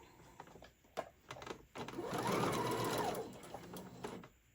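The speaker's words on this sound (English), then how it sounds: "go ahead and get this sewed on" Sewing machine stitching a Santa tote bag at a 3 stitch length, a short start-stop whir that runs steadily for about two seconds, close and fairly quiet, with small handling clicks around it.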